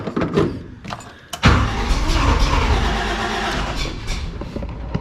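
A carbureted engine with a cold start solenoid cranks briefly, catches, and settles into a steady, close, loud idle, with a few clanks and handling sounds just before it fires.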